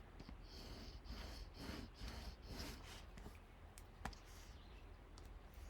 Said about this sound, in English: And then I'll use my bone folder and burnish